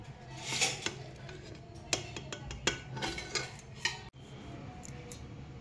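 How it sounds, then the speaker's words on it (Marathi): A spoon stirs chopped coriander through mushroom pulao in a metal pot, giving a run of light clinks and scrapes against the sides, close and fairly quiet, then fading to soft background hush. "आपण कोथिंबीर टाकून घेऊया आणि याला मिक्स करून घेऊया."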